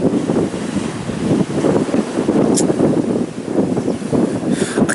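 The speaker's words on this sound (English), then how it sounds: "you've got the wind, slightly cool wind" Cool wind blows outdoors in steady, loud gusts that buffet the microphone with a continuous low rushing roar rising and falling in waves, with no voices heard.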